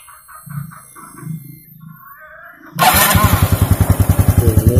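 Honda Revo Fi motorcycle, a new bike with a stuck shaft, cranks with a few low turnover thumps, then catches and settles into a loud, close, steady idle with a rapid even rhythm.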